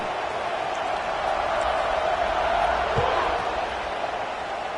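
A packed college football stadium crowd at a Georgia versus Washington game roars in a sustained, dense wall of cheering ahead of a kickoff, swelling slightly midway and staying loud throughout.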